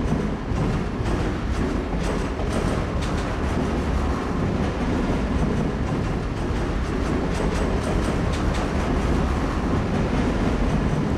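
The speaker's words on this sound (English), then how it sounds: "I'm on a train! I like trains." A train rides on rails with a loud, steady rumble from inside the carriage, faint clickety-clack and wheel noise running evenly throughout.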